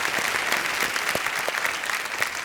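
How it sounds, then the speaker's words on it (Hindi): Studio audience on a televised quiz show breaks into steady, dense applause to welcome a contestant, a loud continuous clapping wash filling the whole moment without speech. "तालियों के साथ इनका स्वागत।"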